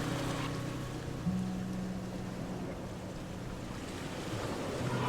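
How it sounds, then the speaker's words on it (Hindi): Calm sea waves wash onto the beach near the Somnath temple, a steady soft surf with wind noise and a low tonal hum underneath, continuous and moderately distant. "सोमनाथ महादेव के निकट आसमान के नीचे शांत लहरों की आवाज़ एक बेहद भावपूर्ण और"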